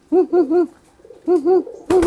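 A pigeon coos close by in two short bursts of rolling, throaty notes, with a louder coo starting at the very end.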